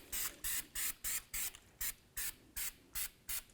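Copper anti-seize sprayed from an aerosol can onto a Honda Accord rear brake hub surface, about ten short rhythmic hissing bursts in quick succession, close and fairly quiet.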